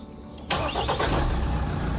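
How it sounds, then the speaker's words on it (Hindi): A Mahindra Scorpio N's engine starts after a brief crank, then settles into a steady, close idle that carries on to the end. "हाँ पहली बार गाड़ी स्टार्ट कर दी"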